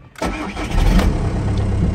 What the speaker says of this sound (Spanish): Mira, cuando arranco el coche